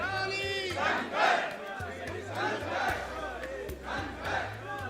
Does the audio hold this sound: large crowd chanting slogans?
yes